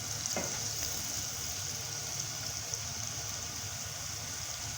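Mustard greens saag cook in a tempering, making a soft, even sizzle and bubbling hiss that stays steady and fairly quiet throughout, with no voices.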